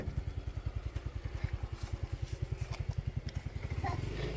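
A motorcycle engine idles and pulls up close by, its steady rapid low thumping pulsing evenly throughout with no talking over it.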